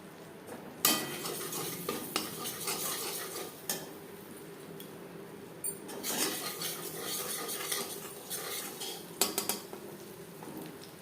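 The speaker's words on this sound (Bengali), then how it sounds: "সেই কড়াইতে দিয়ে দেব সামান্য পরিমাণে বাটার।" Butter heats in a wok while a utensil stirs it, producing a soft, steady sizzle beneath repeated scraping and clinking against the metal pan, with no voices.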